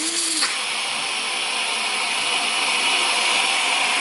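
A cordless Henry vacuum cleaner runs with a steady, loud, broadband whooshing roar, starting with a brief rising whine in the first half second and then holding constant throughout.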